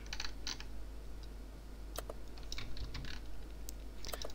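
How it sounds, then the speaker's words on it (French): Quiet clicks of typing on a computer keyboard, including presses of the Alt and Tab keys, come in short irregular bursts of sharp taps over a faint steady hum, with no talking. "On appuie de nouveau sur Alt Tabulation pour l'appeler."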